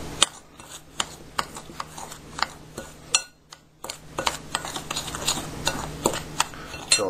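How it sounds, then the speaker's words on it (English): A spoon stirs washing soda and borax powder together in a bowl, making a close run of dry clinks and gritty scrapes in an irregular rhythm with no talking. "Just kind of mix those together,"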